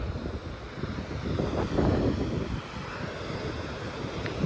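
Wind blows along the coast at Ventnor on an autumn morning, a steady rushing buffet against the microphone that swells for a moment in the middle.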